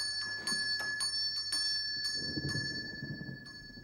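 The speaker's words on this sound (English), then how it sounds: "who's ringing the bell?" A bell rings repeatedly in a room, a series of bright metallic strikes at irregular short intervals with a lingering ring, alongside some low shuffling noise.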